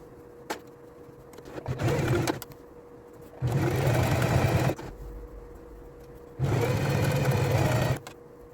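A sewing machine stitches a blouse hem in three bursts of steady motor whirring, each lasting one to two seconds and separated by pauses with faint background sound.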